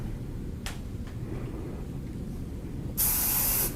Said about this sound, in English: A lot of people use like 10 seconds of hairspray all over the place.